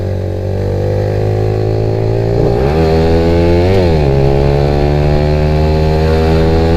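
A Honda Nova Sonic 125 motorcycle engine hums steadily at close range while being ridden, its pitch dropping and rising through a couple of speed changes with a constant droning whine throughout.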